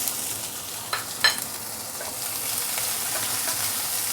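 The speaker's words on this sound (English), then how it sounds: "Stir fry it a bit." Capsicum stir-fried with garlic and ginger in a hot pan gives a steady soft sizzle, with a couple of brief scraping stirs near the start.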